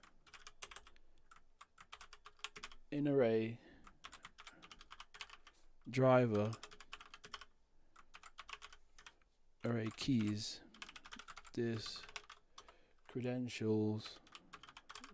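Typing on a computer keyboard while coding in PHP comes in several short, steady bursts of clicking keys, with someone talking quietly between and over the bursts.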